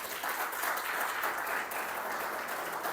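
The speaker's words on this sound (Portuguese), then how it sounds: "Vocês podem aplaudir o Senhor por isso?" A church congregation claps together in a soft, steady wash of applause that runs for the whole short moment at moderate distance.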